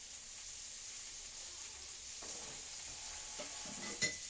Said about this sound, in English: add these sliced onions to the pan. You're probably going to hear a bit of a sizzle.